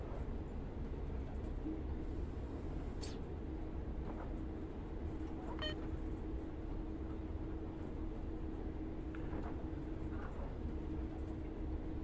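A simulated train in Train Sim World 6 rumbles steadily on its way into Liberec, with a constant low drone, a few brief squeals and clanks, and no voices.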